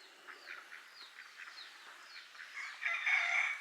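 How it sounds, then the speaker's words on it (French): A family of ducks walking in single file in a Madagascar fishing village gives off repeated rhythmic quacks and calls, moderately close, growing busier and louder toward the end. "Famille canard au grand complet."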